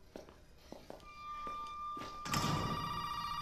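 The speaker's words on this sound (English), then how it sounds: "Oh, phone." A telephone rings in the Resident Evil 7 survival horror game, opening with several soft thuds and taps, then a bright electronic ring that swells and holds loudly near the end.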